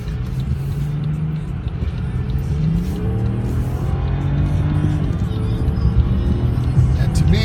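A 2014 BMW 740Lxi M Sport with 17k miles accelerates hard, its engine note rising in a steady, loud, continuous drone as it pulls away, with people talking over it inside the car.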